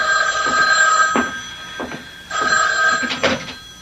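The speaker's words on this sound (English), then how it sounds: "the phone rang." An old-style telephone bell rings loudly in two long, trilling bursts with a pause between them, alone and up close in a radio mystery drama setting.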